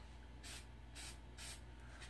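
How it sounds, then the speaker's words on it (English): Ditrans Pro Spray 2 spritzed from a pump bottle onto a lens cloth, four short, quick hissing bursts in an even rhythm, close but quiet. "Give a little spritz."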